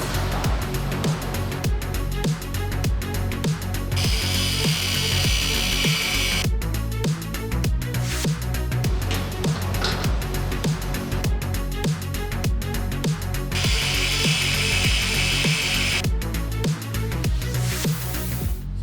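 Aluminum sheet trimmed with a power tool while fabricating a custom hood for a Polaris, a loud continuous whirring grind with repeated bursts of a higher-pitched cutting whine, close up throughout.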